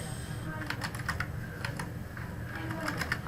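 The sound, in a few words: typing on a computer keyboard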